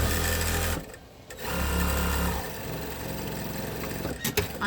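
Sewing machine stitching the red lining of a canvas tote bag with white thread, a close, loud mechanical whir in runs that stops briefly and then resumes, with no talking.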